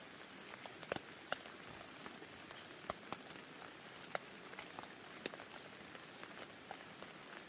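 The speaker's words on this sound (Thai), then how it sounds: "บรรยากาศธรรมชาติฝนตก" Steady rain patters down in a natural setting with scattered sharper drops tapping nearby surfaces, fairly soft and continuous, no voices.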